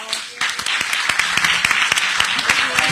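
Applause breaks out at a book presentation after a brief quiet moment, with dense, lively clapping from many hands continuing up close.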